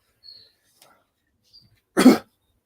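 A person sampling hot sauce on a podcast gives a single short, close throat clear after a few seconds of near silence and faint breaths.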